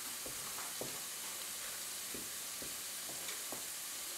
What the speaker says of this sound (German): Immer rühren, das ist wirklich wichtig.